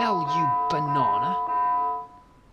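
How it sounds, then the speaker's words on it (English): A bell rings in the submarine game Silent Hunter 4, a steady sustained ringing tone that fades out after about two seconds, partly under a man's excited speech. "Don't ring the bell, you banana!"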